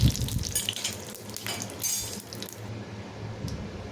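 Mustard seeds spluttering in hot coconut oil with dried red chilli and curry leaves, a dense crackling hiss running steadily throughout at moderate loudness, with no voices.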